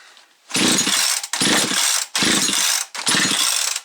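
A Husqvarna 365 chainsaw engine being started with the choke on: four loud, close pull-start bursts in a steady rhythm, each a brief rasping sputter separated by short gaps, with no voices.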